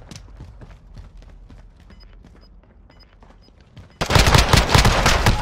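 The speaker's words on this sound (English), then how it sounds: "I shot him twice, then I set him on fire, then I shot him twice again" A pistol fires in Call of Duty: Modern Warfare, sharp quick shots ticking at a brisk rhythm over a quiet backdrop, then a sudden loud, dense burst of gunfire and noise fills the final second or so.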